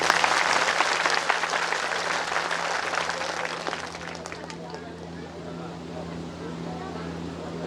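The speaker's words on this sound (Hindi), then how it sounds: "जोरदार तालियां" Loud crowd applause at a religious divine-court gathering in a village, a dense wash of clapping that fades after about four seconds into a quieter murmur with a steady low hum underneath.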